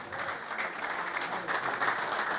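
An audience at a generations reunion event in Tetovo breaks into sustained, dense clapping that holds steady and fairly loud throughout.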